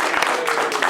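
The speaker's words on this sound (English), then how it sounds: "Let's give him a big round of applause." A studio audience applauds for Vinny Vella on his talk show, a brief, dense burst of clapping with no pauses.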